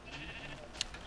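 A single short sheep bleat from the Minecraft video game rises briefly over steady ambient game noise.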